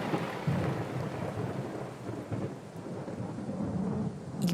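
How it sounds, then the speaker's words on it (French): A violent thunderstorm breaks over the coast of Tanzania, with heavy rain pouring steadily and thunder rumbling low and continuously, loud and close, with no voices. "un violent orage éclate"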